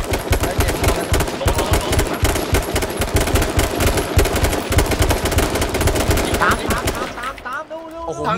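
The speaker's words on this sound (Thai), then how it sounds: "มึงใช้ลูกซองยิงเหรอตูน" Loud, dense shotgun and automatic gunfire in a video game, rapid blasts hammering almost without pause for about seven seconds before thinning out into scattered sounds.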